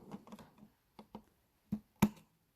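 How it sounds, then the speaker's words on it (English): Metal thread scissors trimming goldwork embroidery thread, a few small, sharp clicks and snips spaced out over a couple of seconds, close and quiet in an otherwise silent room. "I'm going to trim it off with the metal thread scissors."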